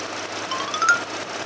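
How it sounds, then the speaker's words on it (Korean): A quiet, smooth Ford Taurus V6 engine idle heard up close, a soft steady whir with a brief faint metallic tick partway through, no voices. "토러스 엔진음입니다"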